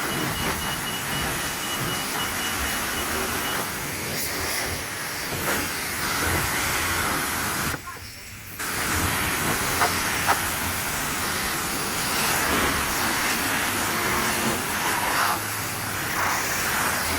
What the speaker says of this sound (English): And then we go to rinse it all off.